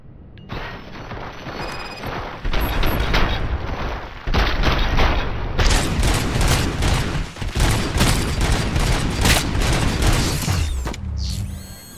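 Gunfire in the video game RoboCop: Rogue City rattles in dense, rapid bursts almost continuously, loud and close, with clanking mechanical noise mixed in and a brief lull near the end.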